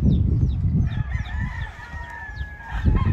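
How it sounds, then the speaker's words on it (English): Several roosters crow at a bird farm in California, long drawn-out calls overlapping one another over a low, rumbling outdoor background and some faint clucking. "And these are just cocks"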